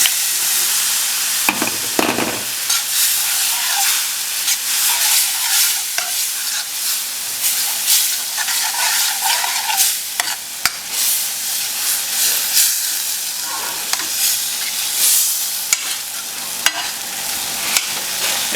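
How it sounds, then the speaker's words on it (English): Broth is stirred firmly in a pan for German eggs in mustard sauce, giving a continuous hissing, scraping swirl with occasional utensil knocks, close and fairly loud. "we want to make sure there are no lumps, so we're going to stir this really, really well"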